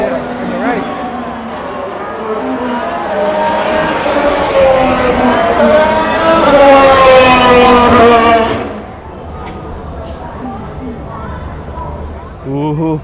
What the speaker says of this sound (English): I thought they only got one practice start, but they're doing two, it seems